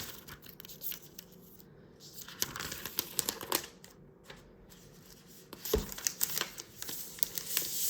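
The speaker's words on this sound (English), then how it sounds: "So right here we have the iPad, so we'll just take it out of its plastic film" A new iPad Air 4th generation, 256GB Space Grey, is pulled from its thin plastic film, producing close, soft crinkling and rustling with a few brief pauses and light handling bumps.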